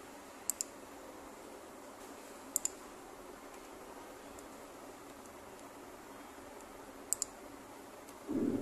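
A computer mouse on an HP computer gives a few sparse, faint clicks while saving BIOS settings, spread far apart over a quiet background hiss with no speech.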